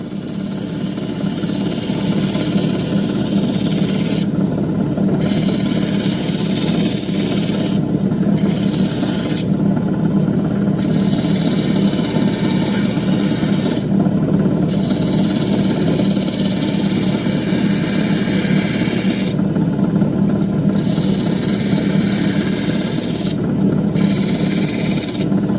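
Andamooka matrix opal grinds against a spinning wheel in a steady, loud, close rasping drone, with the scraping briefly easing off several times as the stone is lifted and pressed back on.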